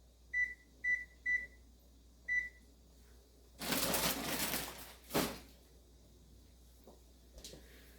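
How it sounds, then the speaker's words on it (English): A kitchen timer beeps four times, short sharp tones with the first three in quick even succession and a fourth after a pause, followed by loud rustling and clattering kitchen handling noises. "Okay, turn my timer on."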